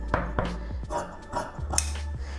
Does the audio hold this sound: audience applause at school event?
no